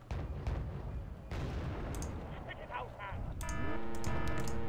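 Tank cannon fire and shell hits in the war game Wargame: AirLand Battle, several sharp booms and impacts over rumbling battle noise, with a rising mechanical tone near the end.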